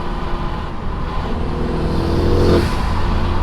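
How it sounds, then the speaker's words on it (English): A car engine revs up loudly with a rising whine, surging toward a peak, then holding a strong steady roar. "Get some turbo noises."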